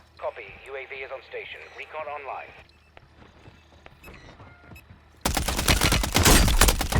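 The MTZ-762 rifle fires in Call of Duty Warzone, a loud, dense burst of rapid shots that bursts in abruptly after a stretch of voice-chat talk and fainter game sounds.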